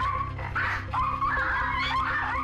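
Two small house dogs bark excitedly and continuously at a cat indoors, a steady run of sharp, overlapping yaps close by with no pauses.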